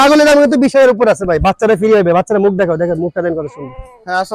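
Crossbreed goats bleat loudly and close by at a goat farm in Brahmanbaria, a run of wavering, quavering calls, one after another with barely a pause.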